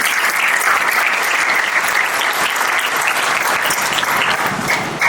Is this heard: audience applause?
yes